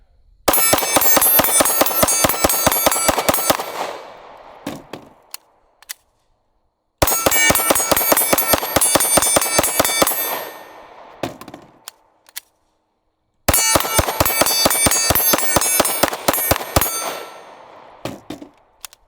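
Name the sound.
Glock Gen 5 pistol firing rounds in torture test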